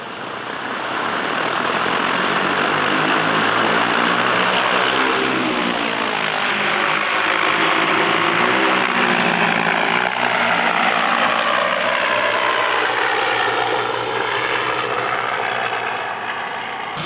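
A Hylio agricultural drone flies over a Wisconsin wheat field spraying fungicide, its propellers producing a loud, steady, buzzing rotor drone that holds for many seconds with slight pitch shifts as it passes close by.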